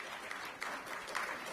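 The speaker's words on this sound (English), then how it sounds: "Please welcome all of them with a big round of applause" Audience at a women's conference applauding guests, a dense and steady patter of many hands clapping throughout, moderately loud and without any talk.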